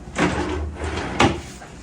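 A drawer built into a train seat on a Chiayi to Taipei trip is pulled open, giving a soft sliding scrape and then a short sharp knock near the end, close by, with no talk.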